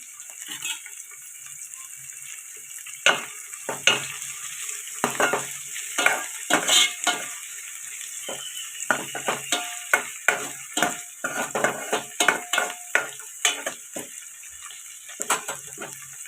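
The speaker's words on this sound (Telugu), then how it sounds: "ఇలా ఫ్రై అవుతాయి కదండి. ఇప్పుడు మెత్తళ్ళు ఫ్రై అయ్యాయి." Dried snails frying in oil in a pan, with a steady hiss of sizzling under repeated sharp clicks and scrapes of stirring, close and irregular across the whole stretch, no voices.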